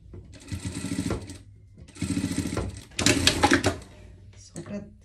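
A sewing machine runs a three-step stitch on a French seam of surgical clothing, in three close, loud bursts of rapid needle chatter with short pauses between them, then a brief final run, alongside a person speaking.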